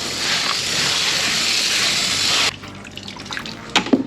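Water pours steadily in a loud, rushing stream over material being wet-screened for placer gold, then cuts off abruptly, leaving faint drips and small clatters.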